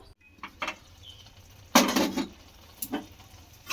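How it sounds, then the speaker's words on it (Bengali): Grated potato and milk with ghee stirred in a pot, heard as a few scattered scrapes and knocks, one longer louder scraping stir in the middle, with quiet stretches between and no talking. "ঢাকা দিয়ে খুব ভালো করে এইভাবে একবার করে নাড়াচাড়া করতে থাকবো।"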